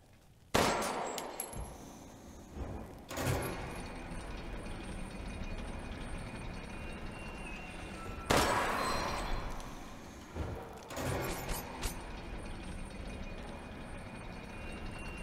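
Gunfire from the survival horror game Resident Evil Village: several loud bursts of shots, a sharp blast near the start and others around three, eight and eleven seconds, over a continuous dense rumble of game noise with no speech.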